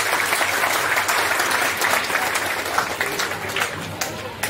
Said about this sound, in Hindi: जरा जोर से स्वागत करें और तालियों के साथ स्वागत करें।